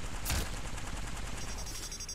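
A single sharp sniper rifle crack early on from the shooter game Valkyrie, followed by a steady low rumble of distant action and faint rapid firing, fairly quiet overall.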